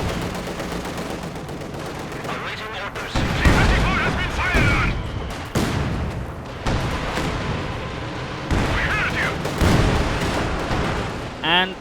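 Mortar barrage and gunfire in the World War II strategy game Company of Heroes 2, with repeated booming impacts and crackling shots layered over continuous battle noise, loud and dense, with a commentator talking throughout.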